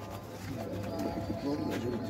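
Pigeons cooing at a loft of racing pigeons, low, soft repeated coos in a quiet background, fairly faint and continuous over a short stretch.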